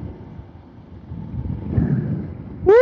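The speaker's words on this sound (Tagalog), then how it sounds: "Hangin lakas." Strong wind rumbles and buffets in low tones, swelling over a couple of seconds, then a sharp rising electronic chime cuts in at the end.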